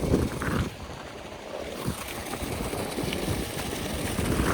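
A farm water pump motor runs steadily in an open field, its engine-like hum continuous and fairly loud, mixed with breezy outdoor noise and no talk.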